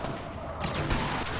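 Rocket launcher blasts and explosive gunfire in a Fortnite zombie match, a dense continuous barrage with a heavy boom near the middle, loud and close.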